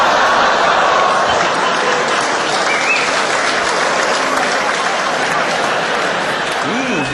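A stand-up comedy audience in Britain claps and cheers steadily throughout, a loud, continuous wash of applause from a large crowd with no gaps.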